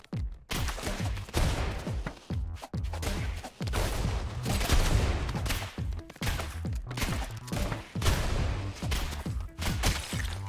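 Rapid gunfire rattles in the video game Rounds as boxes are shot, with dense bursts of sharp cracks and thuds broken by a few brief gaps over about ten seconds.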